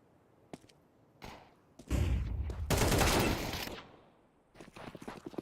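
Rapid AK rifle bursts in a Counter-Strike esports match, loud sustained automatic fire in the middle after a few isolated shots, then scattered lighter clicks and footsteps.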